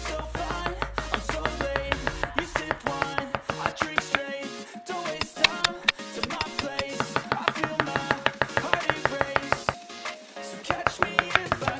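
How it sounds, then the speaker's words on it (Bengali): A knife chops chillies, carrots, onion and garlic into small pieces, with rapid, evenly spaced knocks on a board repeating close by, and music playing underneath. "প্রথমে মরিচ, তারপর গাজর চামড়া ফেলে ছোট ছোট পিস করে কেটে নিই"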